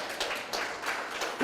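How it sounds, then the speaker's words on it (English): An audience at a science show claps for a mamba demonstration in a brief, fairly faint burst of scattered applause lasting just over a second. "Give it a clap for Mike's mamba."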